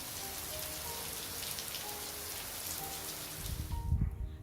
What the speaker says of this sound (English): and that is rainwater.